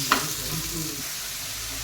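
Onions and curry leaves frying in oil make a steady, close sizzle. It opens with a quick metallic clink of stirring, then continues as an even hiss.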